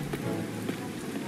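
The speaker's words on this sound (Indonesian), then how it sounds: "Ini sekarang udah hujan lagi." Steady rain in the survival video game Mist Survival, a dense continuous patter of drops on surfaces with a faint low rumble, filling the scene without any talking.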